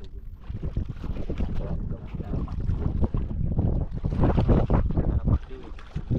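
Northeast monsoon wind blows over the sea around a boat near an island, a loud, close, continuous rumbling buffet with gusty swells throughout.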